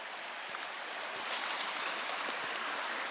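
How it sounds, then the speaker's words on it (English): A small creek flows beside a ridge-top campsite at Lookout Mountain on the Superior Hiking Trail, giving a steady, soft broadband wash of running water with faint splashes, continuous and close, no voices. "we're right here by this wonderful little creek"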